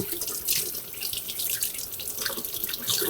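Cool tap water runs steadily over an ear of corn in a kitchen sink, a bright splashing hiss that shifts as the cob is turned, close and continuous without talk.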